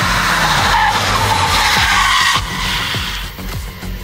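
Car tires skid and squeal under hard braking on a race track, a loud sustained screech over engine roar that eases slightly toward the end as the car slows.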